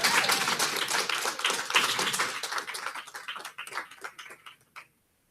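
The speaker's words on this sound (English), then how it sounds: "let's give her another round of applause" Audience applause at a healthcare thought leadership summit, dense clapping that gradually thins into scattered individual claps before fading to silence.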